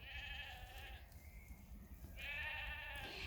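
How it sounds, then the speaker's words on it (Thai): A flock of black and white sheep bleats in layered, wavering calls outdoors, some near and some farther off, over a steady background rumble. "มีทั้งแกะดำแกะขาว"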